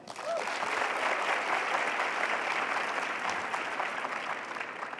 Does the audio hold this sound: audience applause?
yes